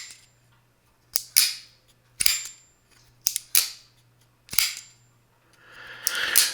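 A WinterBlade Co Factor folding knife snapping shut, five or six sharp metallic clicks with a bright ringing ting, repeated at roughly one-second intervals, close and clear over quiet background.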